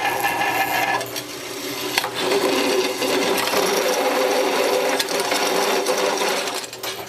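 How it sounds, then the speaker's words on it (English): A drill press punches holes in metal side plates, a steady loud mechanical grinding and rasping that runs continuously with a short dip near the start and sharp clicks along the way. "get them over here to the drill and get these things punched out"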